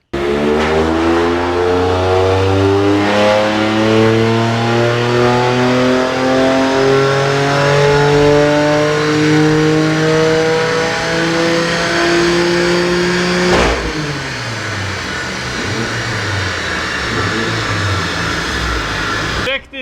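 A stock BMW M4 revs hard on a dynamometer, its engine note climbing steadily in loud, harmonic sweeps for about fourteen seconds before dropping off abruptly into a lower rumble as the run ends.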